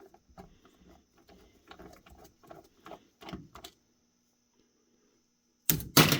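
T6 screwdriver from a kit driving small screws during the teardown of a Prevena Plus 125 therapy unit, a string of quiet, close ratcheting clicks and turns, then a pause and a sudden louder clatter at the end.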